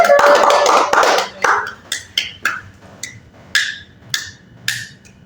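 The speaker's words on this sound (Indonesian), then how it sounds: "beri tepuk tangan sama Mas Arya" Small group in a counseling session claps for a member, a brief burst of clapping at the start that breaks into a handful of separate sharp claps spaced out over a quiet room.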